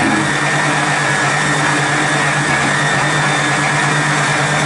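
An electric mixer whips egg whites with sugar at medium speed, a loud, steady whirring drone that holds without break throughout.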